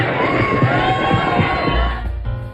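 A crowd at a political event in Mexico shouts and cheers loudly after a thunderclap, a dense roar of many voices that holds steady before tapering off near the end.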